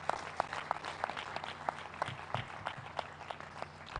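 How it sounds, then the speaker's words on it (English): Audience applause at an HIV and AIDS symposium on outdoor grounds, a steady wash of many hands clapping with scattered louder claps, moderately distant and continuous throughout. "Let's give him a bigger clap."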